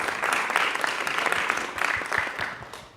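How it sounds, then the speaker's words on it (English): A small group of school students and staff clap briefly at a Perth College event, a short burst of dense, moderately loud applause that tapers off. "A little clap"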